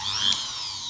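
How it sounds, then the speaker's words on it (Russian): A Chinese rotary tool fitted with a tile drill bit spins against hardened steel, giving a steady high-pitched whine with a short sharper squeal near the start, loud and close. "Теперь будем бормашинкой сверлить. Сверлом по кафелю."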